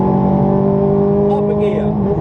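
A car engine drones at steady high revs on a race track, loud and continuous with harmonic tones, while an instructor speaks over it throughout.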